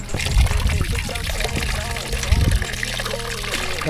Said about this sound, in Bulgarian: вече тук тече вода.